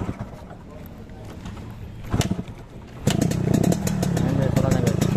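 A 2004 Yamaha RX King two-stroke motorcycle idles close by with a throaty, burbling rumble that swells in after a short start-up burst and then settles into a steady loud idle.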